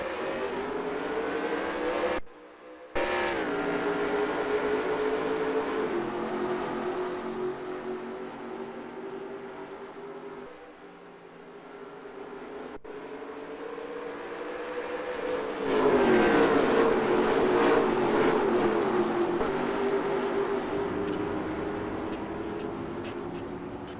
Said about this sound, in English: Anthony Martinn leading the pack back to green flag racing here at Nazareth Speedway.